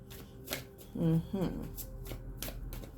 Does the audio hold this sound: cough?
no